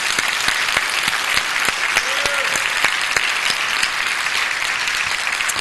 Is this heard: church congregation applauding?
yes